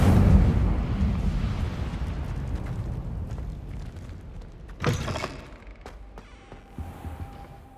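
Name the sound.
Incendio fire spell effect in Harry Potter video game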